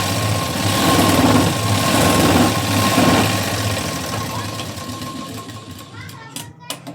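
A sewing machine runs steadily, stitching down a fabric strip folded over by half an inch, its whirring motor continuous and fairly loud before easing off toward the end amid a few small handling clicks.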